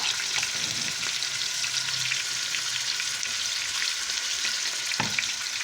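Minced meat browning gently over low heat in a pan for a tomato meat sauce with ham, a continuous close sizzle with faint stirring, no voices.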